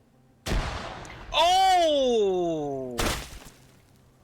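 Frag grenades going off in the Arma 3 military game, heard as two sharp broadband blasts about two and a half seconds apart, with a loud voice exclaiming between them.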